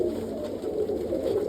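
Almond roller pigeons coo in a loft, a low, continuous murmur of overlapping soft calls from several birds close by, with no talking.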